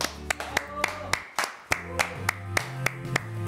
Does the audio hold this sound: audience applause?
yes